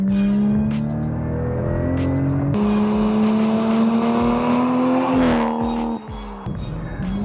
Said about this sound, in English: the twin turbo system, it gets the initial spool up, so there's no real turbo lag, and then the bigger turbo takes over and gives you that great sounding power